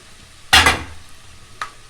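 A spatula scrapes and stirs fried bread pieces and peanuts in a pan for a Gujarati snack, one loud scraping sweep followed later by a shorter, quieter stroke.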